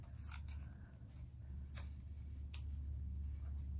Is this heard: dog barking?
no